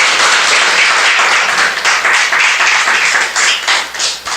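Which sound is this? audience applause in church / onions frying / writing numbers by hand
audience applause in church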